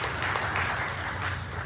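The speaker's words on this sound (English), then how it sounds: "Give them a lovely round of applause." Applause from guests at a combined birthday and wedding anniversary celebration, a dense burst of many hands clapping together, steady and moderately loud throughout.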